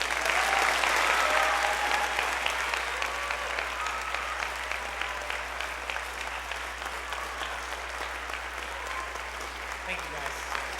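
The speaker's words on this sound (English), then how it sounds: "so please give them a round of applause" Audience at a junior high school band spring concert applauds, dense steady clapping filling the hall throughout, easing slightly toward the end with faint voices mixed in.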